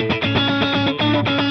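An electric guitar played through heavy distortion chugs out rhythmic, percussive muted notes, with brief gaps between phrases. The tone is loud, dense and close.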